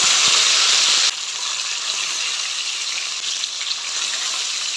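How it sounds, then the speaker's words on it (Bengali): Turmeric-coated katla fish pieces fry in hot oil, giving a loud, steady close-up sizzle that drops a little in level after the first second and then holds even, with no voices. "মাছটা ভাজা হচ্ছে"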